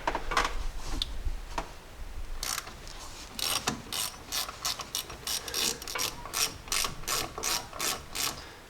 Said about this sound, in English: So I'm going to start off with taking these bolts out.